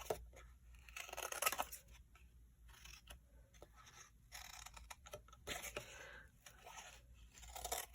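Scissors cutting through a thin cardboard food box, with a burst of crisp snipping and scraping near the start and a second cluster around the middle, close and fairly quiet, with no voice.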